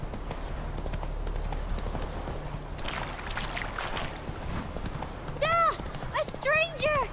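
Roach the horse in The Witcher 3, hooves clip-clopping steadily in game audio, with a voice speaking over it and a clear whinny or similar rising calls near the end.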